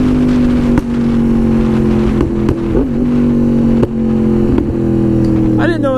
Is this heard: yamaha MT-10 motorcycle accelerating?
yes